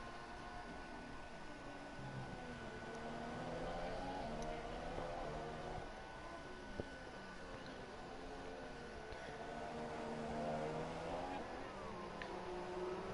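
Onboard sound of a Formula 1 car in an F1 racing game at the Hungarian Grand Prix: a steady, high-revving engine whine with rising and falling pitch through gear changes, heard under race commentary.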